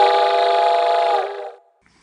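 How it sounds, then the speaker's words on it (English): A single loud, steady train whistle blast sounds for over a second, then cuts off and fades into silence. "the train gave out a loud blast on the whistle"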